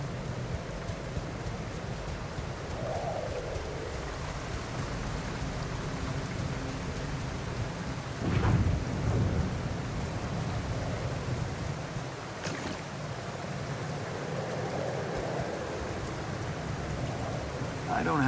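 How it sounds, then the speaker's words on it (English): Steady rain hiss fills a video game scene, with a low rumbling swell near the middle and a brief crack later, like distant thunder amid the downpour. "The planet of eternal rain."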